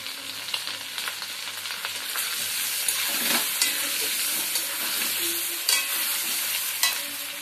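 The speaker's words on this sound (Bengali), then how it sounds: "এদিকে আলুগুলোকে ভাজতে দিয়েছি" Potatoes fry in hot oil in a home kitchen, a steady loud sizzle running throughout with occasional stirring scrapes and soft clinks rising above it.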